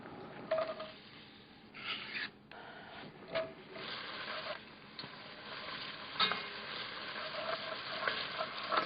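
Chopped onion cooking in butter in a pot, a steady soft sizzle and crackle with scattered sharper pops and light stirring scrapes, fairly faint and close, no talking.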